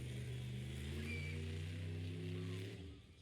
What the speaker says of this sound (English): Putting the truck in reverse.